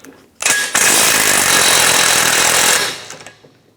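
A power tool spins off a nut with a 21mm socket on a 2012-2019 BMW 328i xDrive front control arm, one loud continuous burst of about two seconds that cuts off and fades, preceded by a short click.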